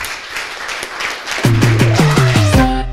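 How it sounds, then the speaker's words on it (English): An audience applauds after a business talk with a short burst of moderate clapping, soon joined and overtaken by a loud, stepped musical jingle that plays over the remaining claps. "Big applause."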